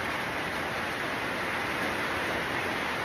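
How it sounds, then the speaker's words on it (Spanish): Steady, dense rain patters hard on a metal sheet roof, a continuous hissing drum with no pauses. "Está lloviendo, por eso hay tanto ruido de chapa"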